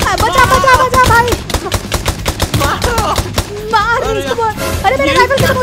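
Rifle fire in Minecraft crackles in rapid, loud, machine-gun-like bursts, with excited voices talking over the shooting throughout.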